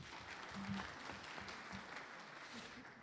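Steady applause from a large audience at a political party meeting in Polatlı, Turkey, fills the whole stretch, dense clapping at a constant level with no voices standing out.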